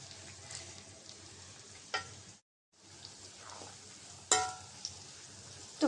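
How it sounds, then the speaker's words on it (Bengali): Chopped onion and garlic fry in oil in a pan, a soft steady sizzle broken by a brief silence and a few sharp stirring clicks and scrapes. "তো পেঁয়াজটা হালকা করে ভেজে নেব।"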